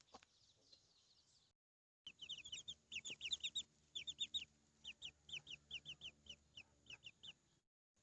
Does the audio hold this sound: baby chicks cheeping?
yes